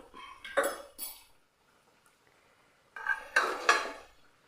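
A metal ladle scrapes and clinks inside a pressure cooker while scooping fried puffs out of the oil, two separate bursts of clattering with a quiet pause between them.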